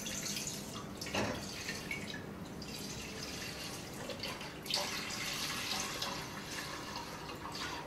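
Whole milk being poured out, two liters for homemade cheese, as a steady liquid trickle and splash with soft dripping that runs continuously for the whole stretch, fairly close and moderately loud with no talking.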